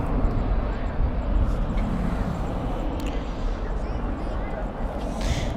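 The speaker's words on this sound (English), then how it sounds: "And here this A380 moves." An Airbus A380 airliner rumbles at night at Dallas/Fort Worth airport, a steady, broad engine roar from some distance, with a voice talking over it.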